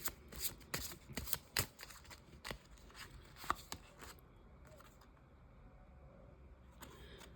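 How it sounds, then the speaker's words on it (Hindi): Tarot cards being shuffled by hand, a rapid run of crisp riffling flicks through the first four seconds, then quiet room tone with a few faint taps near the end; no talk. "We'll take few more cards and then we are done."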